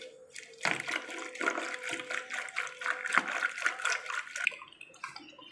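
Taro roots (arvi) being washed by hand in a pot of water in a home kitchen, with continuous sloshing, swishing and splashing that rises and falls in waves, fairly close and alone without talk.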